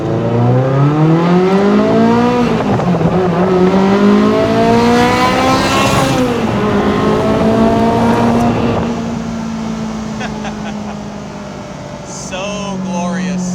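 A 1995 Ferrari F355 Challenge race car accelerates hard through rising gears, a loud, high-pitched engine wail climbing in pitch, then easing to a quieter drone as it lifts off; no speech.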